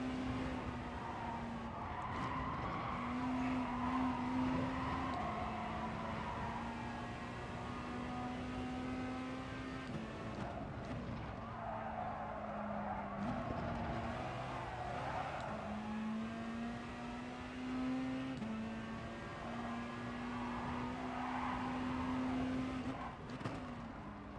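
Race cars in a driving video game hum along steadily at low volume, with engine pitch stepping up and down through gear changes and a faint skid now and then.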